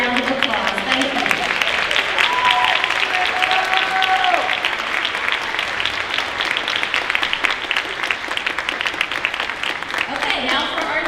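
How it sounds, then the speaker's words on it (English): A school auditorium crowd at a senior honors night claps steadily for honored teachers and students, a dense, even wash of applause that holds throughout, with some voices mixed in. "Let's give them all a big round of applause."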